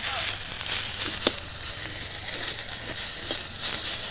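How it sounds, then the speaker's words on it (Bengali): Onions and broken dried red chilies sizzle in hot oil with a loud, continuous hiss and occasional pops, close up and unbroken throughout. "শুকনো লঙ্কা দুটো ভেঙে দিলাম আর এই পেঁয়াজগুলো কিন্তু একদম পুরো লাল লাল একদম ভাজা ভাজা করে ফেলবো না"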